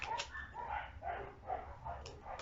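Several dogs bark repeatedly at a distance, muffled and faint, in a steady run of overlapping barks with no one talking.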